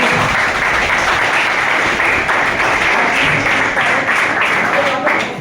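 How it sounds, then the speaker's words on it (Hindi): An audience at a company plan presentation breaks into loud, dense applause that holds steady and unbroken throughout. "तो चाहूंगा कंपनी के एक बार जोरदार ताली बजाइए।"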